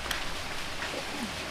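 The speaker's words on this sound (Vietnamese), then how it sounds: "Mưa quá trời mưa, không có làm gì được" Heavy rain falls outdoors in rural southern Vietnam, a soft steady hiss at low-moderate level with a few faint chirps and clicks over it.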